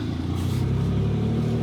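Rebuilt Mira car driving, its engine giving a steady low hum with strong harmonics throughout, close and moderately loud, with no speech over it.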